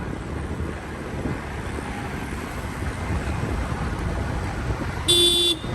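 Steady road traffic rumble on a road seen from above, with wind buffeting the microphone and one short, loud car-horn toot near the end.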